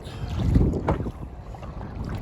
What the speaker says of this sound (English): You're getting some speed. Kayaking.